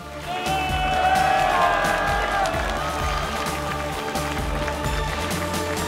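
A distant crowd at an IEM Katowice 2019 StarCraft II esports match cheers and murmurs continuously beneath a bed of game music and tones.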